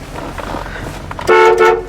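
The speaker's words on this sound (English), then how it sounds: "Horn works, here you go." Horn of a 1969 Buick GS honked from inside the car, one short blast then a second longer one after a brief gap, loud and close over a low interior background.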